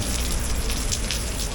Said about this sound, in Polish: Wejdę trochę tutaj pod dach, żeby nam nie padało.